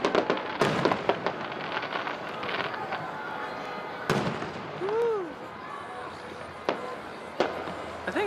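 Fourth of July fireworks over Sparks, Nevada explode in a string of sharp bangs and crackles, with big booms at the start and near four seconds, echoing away. A whistling shell rises in the middle, and a voice is heard faintly.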